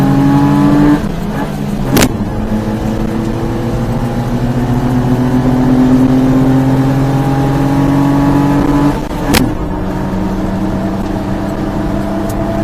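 Mini trucks race with engines droning loudly and continuously, pitch climbing steadily through each gear and dropping abruptly at two shifts.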